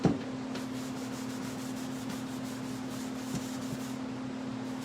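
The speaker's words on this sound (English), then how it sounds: "I'm just gonna pour some of my rubbing alcohol on my shop towel, and I'm just gonna wipe down this." A shop towel soaked in rubbing alcohol rubs across metal with a steady, close, soft scrubbing hiss, broken by a few faint knocks, and no voices.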